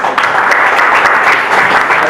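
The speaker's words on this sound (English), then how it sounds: "let's have a big round of applause for Mad Coffee Show" Loud, close applause from an audience at the Mad Koffee Show 2.0 art exhibition, a thick continuous crackle of many hands clapping without pause for about two seconds.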